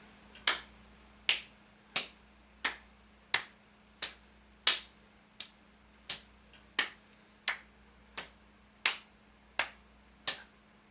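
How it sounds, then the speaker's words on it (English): Fourteen sharp hand claps in a steady rhythm, roughly one every 0.7 seconds, during a bodyweight aerobics cardio workout, each clap crisp and close with a faint steady hum underneath. "you're going to clap in front, clap overhead, clap behind"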